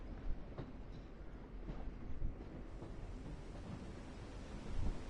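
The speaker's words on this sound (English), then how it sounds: "Why am I hearing a train?" A train rolls along in The Walking Dead video game, a faint, low rumble with soft rail clatter that holds steady throughout, with no voices over it.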